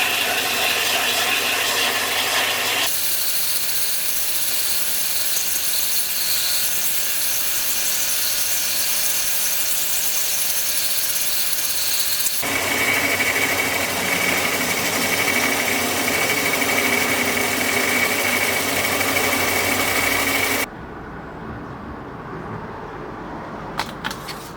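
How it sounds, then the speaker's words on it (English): Steady, continuous whir of a power sander grinding a washer down flush, loud and unbroken for about twenty seconds before cutting off, leaving a quieter workshop hum with a couple of faint knocks. "I'm going to stick it on the sander and sand that down flush"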